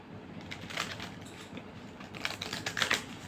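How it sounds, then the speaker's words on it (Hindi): A deck of tarot cards being shuffled, a faint, soft run of papery riffles and taps that grows a little busier toward the end, quiet and close with no speech. "और मैं इसको सही से शफल करूँगी फिर से ये डेक"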